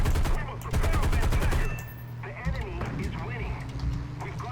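Aircraft guns firing in War Thunder arcade combat: a loud rapid burst of automatic fire up front, then engine drone with quieter sporadic noise, under a voice.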